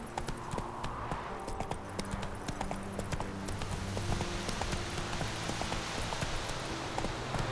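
Horse hooves clip-clop steadily in The Witcher 3, a brisk, even rhythm of hoofbeats over a continuous background of game ambience.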